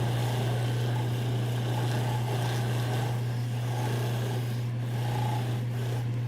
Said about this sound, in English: this is called a plastic center rag wheel